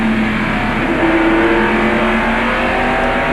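NASCAR race cars roar around North Wilkesboro in a continuous, loud, steady engine drone, with a sustained pitch rising slightly as cars run close together and one passes on the outside.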